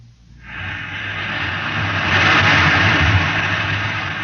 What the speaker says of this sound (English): You can hear the roaring of the gases in the test chamber behind me.